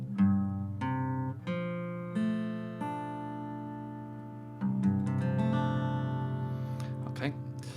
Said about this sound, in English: the guitar needs to be tuned in drop C